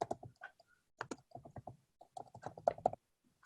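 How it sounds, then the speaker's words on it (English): Typing on a computer keyboard while entering text into a circuit-simulation program: close, crisp key clicks in quick irregular bursts separated by short pauses, with no talking. "you are going to type"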